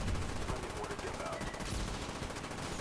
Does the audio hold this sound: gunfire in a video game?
yes